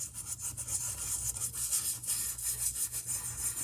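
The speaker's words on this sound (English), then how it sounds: "now this is a stencil brush, and I'm just going to kind of lightly just go around in circles" A stencil brush rubbed lightly in circles on paper makes a faint, soft, rhythmic swishing scrub, repeating steadily at close range with no voices.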